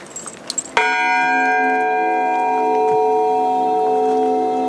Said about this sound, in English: So whenever they heard the bell, they knew it was time.